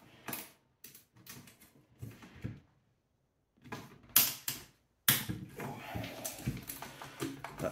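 A large Torx 5 driver works a long, tight screw loose from an E&C Strike Patriot during disassembly, making faint scattered clicks, creaks and scraping in short bursts separated by a quiet gap.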